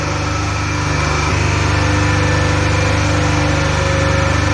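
Motor-driven synchronous generator running steadily near 1500 RPM in a lab test, a constant loud whine and hum with a stable tone and no speech.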